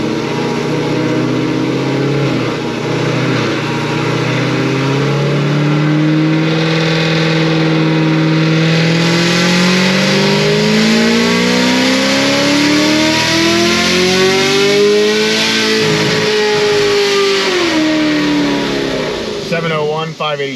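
A supercharged LT1 Camaro with a Stage 5 ProCharger pulls hard through 5th gear, its engine note climbing in a long, loud, continuous sweep, then dipping and rising again, with talk under the roar.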